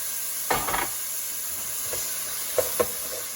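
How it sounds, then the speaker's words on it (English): Beef birria meat fries in a hot pan with a constant faint sizzle and hiss, broken by a few short louder spatters and stirring clatters. "I'm gonna let this fry up for like a couple minutes"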